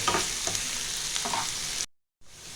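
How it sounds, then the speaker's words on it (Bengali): Chopped onion sizzling in hot oil in a pan, a steady near hiss with a few stirring clicks, cutting off abruptly to silence before a faint return. "পেঁয়াজটা একটু ভাজতে হবে 1 মিনিট।"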